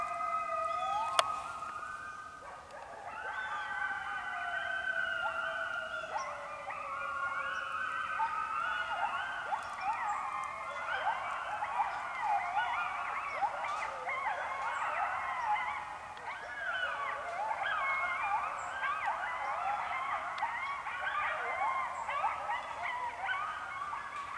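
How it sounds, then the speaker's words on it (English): A pack of coyotes howls and yips at night in the woods, a chorus of rising, wavering wails and excited barks rolling on without pause, moderately distant. "all of a sudden, coyotes just started howling like crazy"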